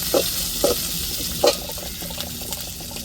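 Onions and curry leaves fry in a pan during home Tamil cooking, with a steady sizzling hiss under a few sharp stirring scrapes and clatters.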